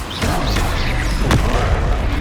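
A Bombarda blast spell explodes in the Hogwarts Legacy video game, a single booming burst with a sharp crack in the middle of a dense, continuous rumble of game effects.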